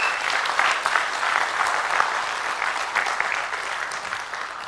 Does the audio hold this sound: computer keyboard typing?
no